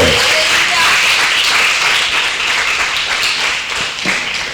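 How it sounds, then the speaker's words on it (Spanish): A church congregation breaks into loud, dense applause and clapping in praise, sustained throughout and gradually easing toward the end, with scattered voices mixed in. "Dale un aplauso al Señor porque se nos estaba olvidando."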